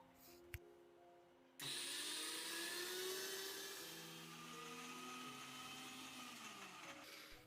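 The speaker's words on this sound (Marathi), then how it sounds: "मिक्सरला लगेचच एकदम बारीक पेस्ट स्वरूपात दळून घेऊयात" After a short quiet pause, a mixer grinder whirs up and runs continuously at high speed grinding soaked lentils into fine paste without water, a loud motor whine that shifts pitch slightly as it grinds.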